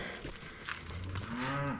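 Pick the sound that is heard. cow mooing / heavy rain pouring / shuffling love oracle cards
cow mooing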